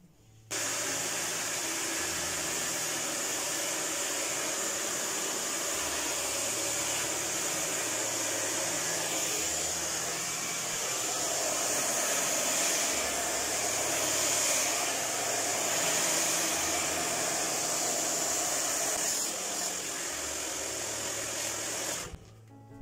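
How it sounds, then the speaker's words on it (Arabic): A hair dryer blows hair dry over a round brush, a loud continuous whooshing roar running almost the whole time with slight shifts in tone as the brush moves, close up and with no voices. "المهم هادي غادي نجبدها دابا بالبروشينغ باش تولي بحال هاد"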